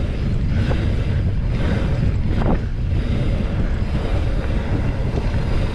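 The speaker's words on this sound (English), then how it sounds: "I got the wind blowing right in my face." Wind buffets the microphone of a Trek Roscoe 9 mountain bike rider in a steady, loud low rumble that runs the whole time, with a brief sharper gust midway and no voices.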